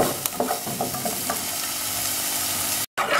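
Green onions sauté in a pan with a steady close sizzle, joined early by light stirring clicks, then a brief dropout just before the end.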